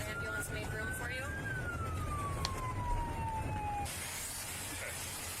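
A distant siren wails with a single long falling tone, faint beneath steady background noise and traffic rumble.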